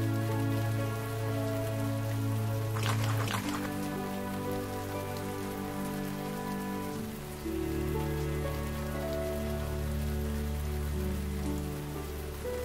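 Soft rain falls on a spring night, a steady, even patter and hiss over a sustained tonal background, with no voices.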